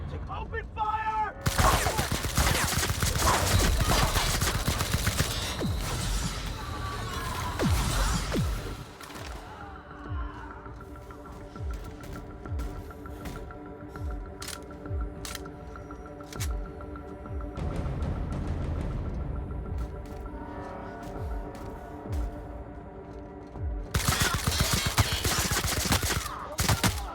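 Gunfire in a shootout from the video game The Outer Worlds, with loud dense bursts of rapid shots at the start and end, and a quieter stretch between them with sporadic single shots over a droning tone.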